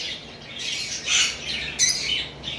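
A mated pair of caged lovebirds lets out harsh, shrill squawks in quick bursts, loud and close, with a steady background hiss and no talking.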